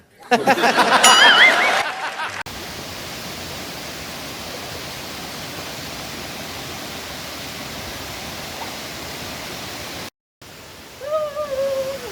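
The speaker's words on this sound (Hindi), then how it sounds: "ये देखंतु एटा होची कुंट्रू वाटरफॉल।" Steady broadband roar of the Kuntroo waterfall, a hidden cascade, running continuously for most of the clip after a brief stretch of voices at the start, with a short gap and more talk near the end.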